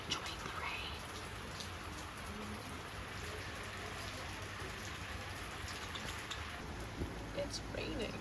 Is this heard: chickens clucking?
no